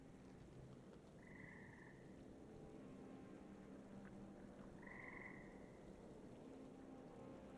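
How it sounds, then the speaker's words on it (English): Frogs croak in two short bursts over a steady wash of water and splashing ambience, with no talking. "frog calling, splashes of water begin to emerge"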